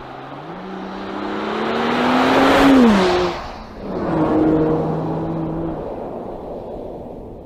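A Mercedes GLE Coupé 53 AMG accelerating hard from 0 to 90 km/h in sporty driving, with the engine note rising loudly through the gears, dipping at a shift, then pulling strongly again.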